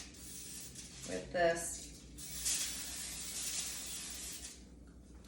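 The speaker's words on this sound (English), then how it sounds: "here is my tin foil. I'm just gonna spray it" Coconut oil spray hisses onto tin foil in a short burst, followed by a longer, softer hiss, with a person talking briefly over it.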